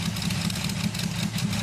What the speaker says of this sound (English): The engine coughs, smokes, and roars to life.